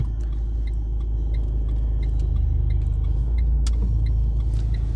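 During a driving test, a car idles and pulls away with a low, steady engine rumble and a regular ticking like a turn signal.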